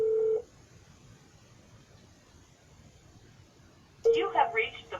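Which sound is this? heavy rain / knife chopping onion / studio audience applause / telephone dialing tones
telephone dialing tones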